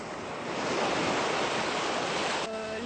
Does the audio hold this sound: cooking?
no